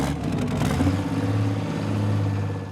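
Tractor-pulling machine "Lil Mule" with a big fuel-hungry engine revving up hard, a loud, close, deep throbbing roar that climbs and holds at high rpm with no talking.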